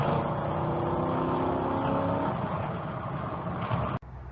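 A Ford Crown Victoria fitted with PI heads, cams and intake runs hard and loud in one steady, continuous engine roar that drops off abruptly near the end.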